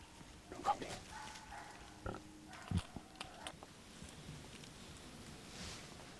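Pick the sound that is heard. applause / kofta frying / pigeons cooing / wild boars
wild boars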